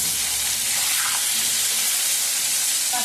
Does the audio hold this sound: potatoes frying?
yes